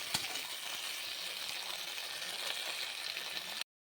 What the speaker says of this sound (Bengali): তো এটাকে আমি সবজিগুলোকে হালকা নাড়াচাড়া করে নেব।